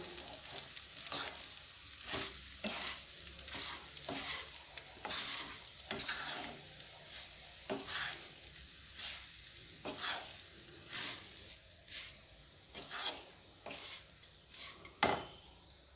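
Jeera chili chitranna rice being stirred and fried in a pan, a soft steady sizzle broken by repeated sharp scrapes and clinks of the spoon against the pan, close by with no talking.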